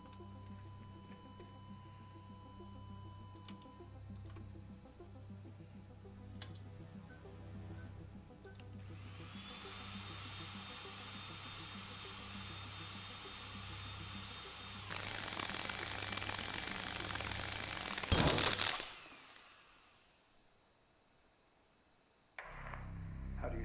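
A dental drill in the game Stories Untold whines up to a high, steady pitch, holds for several seconds, shifts tone, then cuts off abruptly after a harsh burst over a low mechanical hum.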